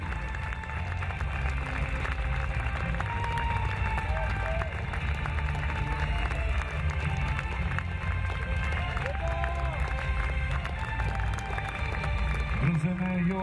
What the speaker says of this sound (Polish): Proszę o brawa, reprezentacja Rosji,